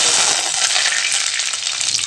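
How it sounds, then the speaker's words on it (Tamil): Loud, close crackling and sputtering of mustard seeds and urad dal in hot oil, a dense steady hiss with popping. "எண்ணெய் காஞ்சதையும் கடுகு உளுத்தம் பருப்பு போட்டுக்கலாங்க கடுகு வெடிச்சதையும்"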